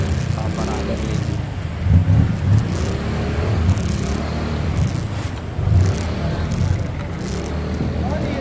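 A jeepney pulls over amid street traffic, a continuous low motor rumble with a couple of brief louder engine surges, heard close by beneath ongoing conversation.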